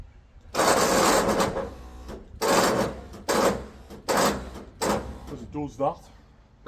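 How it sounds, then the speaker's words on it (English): A cheap winch, strong when pulling but troublesome to release, whirs and grinds in about five loud, close bursts of varying length separated by short pauses, with someone briefly speaking between them. "Got to be the world's crappiest winch."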